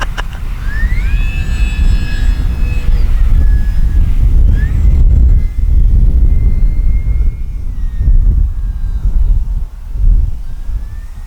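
An FMS Kingfisher RC airplane's electric motor whines as it climbs straight up, with pitch shifting as the plane rises, under steady gusty wind noise buffeting the microphone for the whole stretch.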